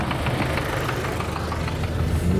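Tractors clearing snow around a stadium in Poltava during a heavy snowfall give a steady, moderately distant engine rumble that drones on unbroken, with no voices.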